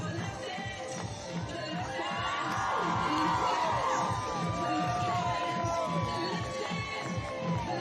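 A high school cheerleading squad at the L.A. City Section Cheer Championship yells a callback cheer amid crowd noise, loud overlapping shouts and whoops sustained for several seconds, while the crowd murmurs and cheers underneath.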